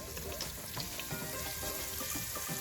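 Paneer shallow frying in hot oil, a dense continuous crackling sizzle, close and even in level, with no talking.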